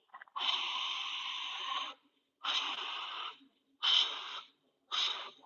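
Deep breathy exhales during a hip mobility and splits stretching workout: a long airy breath out followed by three shorter ones, separated by silence, close to the microphone and heard alone.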